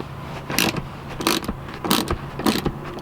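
Bolt on a car seat being worked loose with a wrench after penetrating oil, giving four loud bursts of metallic ratcheting at roughly even intervals, close up with a low hum between.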